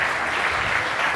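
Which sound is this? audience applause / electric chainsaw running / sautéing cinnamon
audience applause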